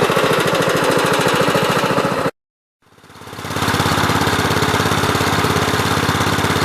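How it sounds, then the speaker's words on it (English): A small Onan NB twin engine on a 430 garden tractor runs steadily with a loud, rapid, knocking putter, cuts out briefly, then picks back up to the same chugging idle. "The Onan NB powered 430. I think it's running pretty decent."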